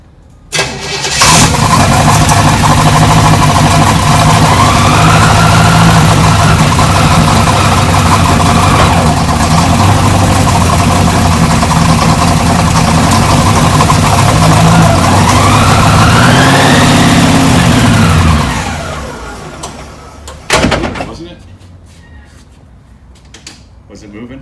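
A 1966 Chevrolet Caprice engine cranks, starts and runs loudly up close, holding a steady idle with a couple of rising revs before shutting off, followed by a sharp clunk and quiet.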